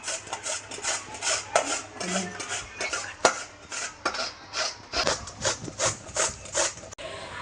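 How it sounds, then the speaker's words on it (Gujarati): Raw papaya scraped across a grater gives a rhythmic series of rasping strokes, some with small metallic knocks, repeating at a steady pace from close by. "હવે આપણે એને છીણી લઈશું આવી રીતના પોપૈયું છીણી છીણી લઈશું"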